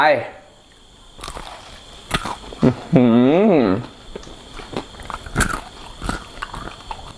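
Crispy fried Thai khanom kha mu snack is bitten, giving a few short crunchy bites spread through the clip, with someone speaking in between.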